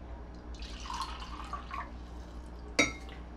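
Water is poured into a mixer grinder jar in a home kitchen during preparation of jowar-flour appe with peas and fenugreek: a soft, faint trickle with drips, then one sharp clink near the end.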